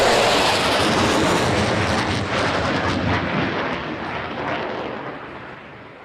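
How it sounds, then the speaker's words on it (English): F-16 fighter jet in a flying display at the Farnborough airshow, a loud, broad roar of jet engine noise that sweeps past and slowly fades over several seconds. "F-16 operated by 29 air forces around the world."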